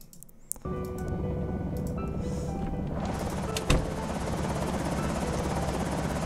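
A helicopter in the zombie survival game Project Zomboid roars overhead, its rotor a loud, steady thudding drone that swells and holds throughout, with a brief knock early on.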